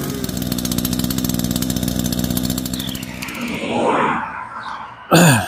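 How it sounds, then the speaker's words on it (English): A chainsaw engine runs with a steady buzzing drone for about three seconds, then turns rougher and uneven before a sudden loud burst near the end. "A chainsaw?"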